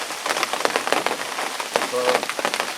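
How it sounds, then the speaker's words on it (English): Heavy rain falls during a lakeside carp fishing session, a steady crackling patter of drops striking nearby surfaces, with a few sharper taps mixed in throughout. "this heavy rain wasn't forecast, and I'm getting soaking wet here"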